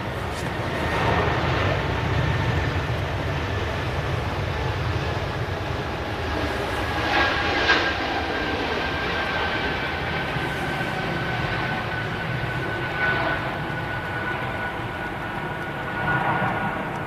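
Steady, fairly distant jet roar of a Swiss airliner departing Manchester Airport for Zurich in early morning, a continuous broad rumble with a few faint swells and no talking.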